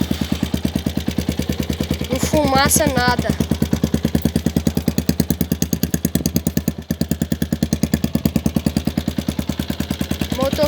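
A motorcycle engine idles after starting, a loud rapid steady putter with even beats throughout, while someone talks over it.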